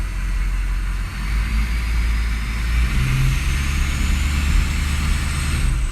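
A car engine runs steadily in gear while backing up, its low, even drone loud and close. The car is logging underboost and cylinder 4 fault codes and has been stalling on the road.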